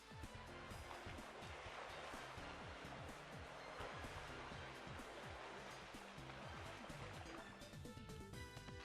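Swimming in the Ever17 visual novel game produces water splashing and churning froth with spray, a busy, continuous sloshing with rhythmic splashes and no voices.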